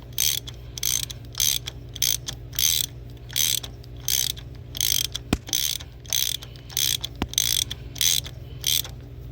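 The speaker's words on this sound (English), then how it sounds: "tighten with our socket" A socket ratchet tightens the oil pressure switch on a 2007 Chevy Impala 5.3, clicking in steady bursts of rapid pawl ticks separated by short pauses, close and clear, with two sharp knocks midway and no voices.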